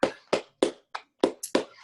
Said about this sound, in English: But you clapping and I'm laughing